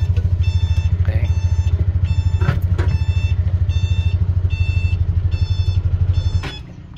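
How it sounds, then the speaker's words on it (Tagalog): Rusi Caruza 200i reverse backup horn beeping in a regular repeating pattern of short electronic tones over a loud, rapidly thumping idling engine, the engine cutting out near the end. "pag narinig nyo yan, ibig sabihin atras na siya, backhorn tawag"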